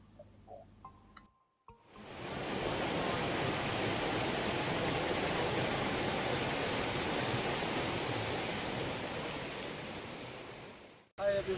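A waterfall in Sakleshpur, India, roaring as a steady, full rush of water that swells in after a short quiet opening and cuts off abruptly near the end.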